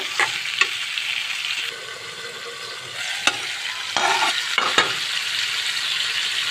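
Pumpkin sizzles steadily while being stir-fried in hot oil for a pumpkin and rohu fish curry, with a constant bright frying hiss broken by a few sharp spatula scrapes and stirring knocks, close and loud, with no voices.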